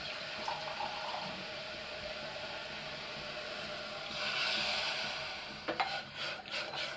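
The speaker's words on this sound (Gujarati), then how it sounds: "આપણે આના અંદર અત્યારે અડધી વાટકી જેટલું પાણી નાખીએ" Water poured from a small bowl into a pan of bottle gourd and tomato, a soft splashing pour rising briefly near the middle and ending with a few clinks, close up and without talk.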